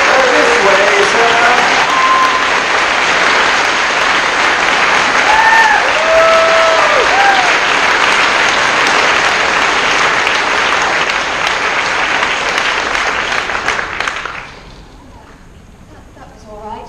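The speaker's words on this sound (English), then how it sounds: "perhaps everybody could give George a marvellous round of applause" A large crowd applauds loudly and steadily for about fourteen seconds at a live show with George R.R. Martin, with a few voices rising through it, before the clapping cuts off into quiet.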